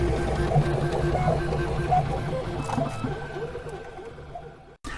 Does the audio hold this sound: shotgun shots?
no